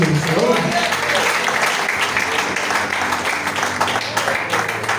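Congregation in a church clapping in praise of Jesus, a dense continuous wash of many hands, fairly loud and even throughout, with voices and some tonal sound mixed in underneath.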